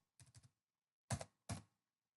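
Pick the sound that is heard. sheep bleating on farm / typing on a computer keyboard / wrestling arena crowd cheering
typing on a computer keyboard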